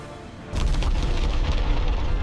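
An animated guided missile strikes its target with a sudden heavy boom that breaks in after a brief hush, then rumbles on loudly for a couple of seconds.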